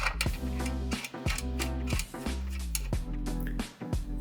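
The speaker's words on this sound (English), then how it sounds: "And using your wrench, tighten them up." A wrench tightens short bolts on the back plate of an Exerfly RackFly, producing a repeated series of close, crisp ratcheting clicks in quick regular strokes with no talk.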